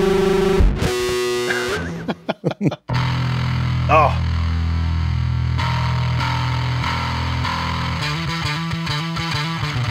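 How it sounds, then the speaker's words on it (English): Fuzz-distorted electric bass played on the intro of a 1990s song, loud, gritty and rhythmic, entering after a brief spoken exclamation and a few sharp stabs. "And for this, they're gonna need some fuzz."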